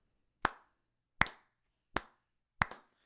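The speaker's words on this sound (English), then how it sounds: "let's give him a slow golf clap" Four slow, deliberate single hand claps spaced about a second apart, each crisp and close with a brief decay, in an otherwise quiet room: a sarcastic golf clap.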